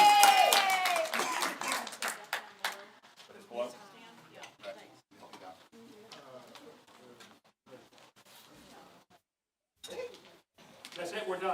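A congregation applauds the cantor at a Friday night Shabbat service, with loud clapping at the start fading into scattered claps and murmuring voices.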